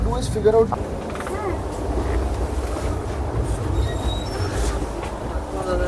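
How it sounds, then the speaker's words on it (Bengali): The Kriya Yoga Express on the Howrah to Ranchi route races near its top speed, a steady loud rumble of wheels on rails with squealing and clattering throughout, heard from on board with voices mixed in. "প্রায় ম্যাক্সিমাম স্পিডেই ছুটছে ট্রেনটা"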